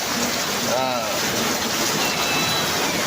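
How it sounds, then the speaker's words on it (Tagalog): A loud, steady hiss of heavy rain pours down continuously, with a brief voice murmuring near the start. "yan lakas ng ulan no"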